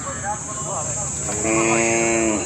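Cattle lowing at a busy livestock market, with drawn-out tonal calls rising clearly in the second half over a steady crowd murmur and a constant high background whine; people talk nearby.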